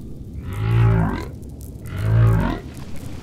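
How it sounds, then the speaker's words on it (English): Humpback whale song: two long, loud moaning calls, each swelling and sliding in pitch with a low rumbling core, separated by a short pause, with no voices present. "If you turn on your sound, you will hear a humpback whale song."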